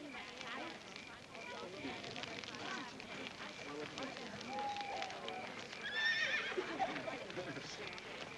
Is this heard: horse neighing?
yes